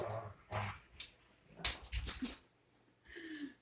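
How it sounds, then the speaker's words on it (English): Dogs indoors give short barks and high whines in separate bursts, moderately close with quiet gaps between. "So there go my dogs again."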